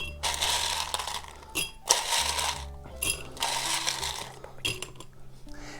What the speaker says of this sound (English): So let's put some ice in our glass.